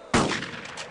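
A gunshot in the World War II shooter Brothers in Arms: Road to Hill 30 cracks out loud and close, then rings off in a long rolling reverberation with faint distant shots in the tail.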